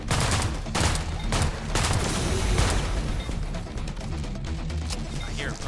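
Rapid gunfire rattles in the System Shock remake, a loud run of close bursts in the first seconds that thins into a noisy, sustained combat wash.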